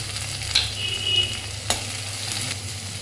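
Capsicum stir-fried in a pan for gobi manchurian, a steady close sizzle with a couple of sharp utensil clinks and stirring scrapes, no voices.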